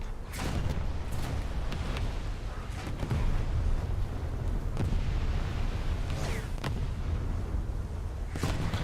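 Video game gunfire while shooting at enemies, with repeated heavy booming shots and bursts spread across a loud, dense battle soundscape.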